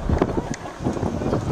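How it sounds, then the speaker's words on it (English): Wind gusts at an outdoor college ballpark during a baseball game, a low rumbling buffet against the microphone that swells and eases across a brief moment. "As the wind picks back up."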